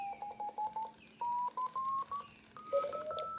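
Simulated ham radio stations built from AD9833 sine wave generators, heard as a run of steady electronic tones that step in pitch, some pulsing in short regular beeps, others held longer and overlapping, clear and close.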